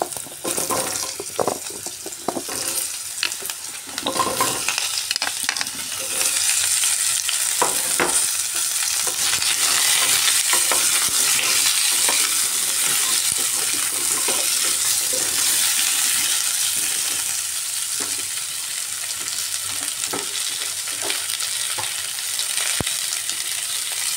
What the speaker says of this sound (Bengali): এবার এর মধ্যে কেটে রাখা মিষ্টি কুমড়ো দিয়ে দিচ্ছি।